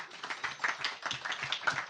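Applause from a gathered audience at a home Ramayan event, a dense, steady patter of many hands clapping at moderate distance for about two seconds.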